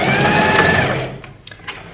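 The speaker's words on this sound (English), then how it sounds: "I am right at the end, so I'm going to sew down, backstitch, and go forth again just to secure the end." A sewing machine stitching and backstitching across the end of a knitted cardigan: a loud, close, continuous motor whir with rapid needle chatter that stops abruptly, followed by a few soft clicks.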